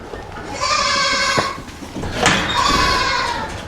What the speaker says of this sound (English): I have 4 goats.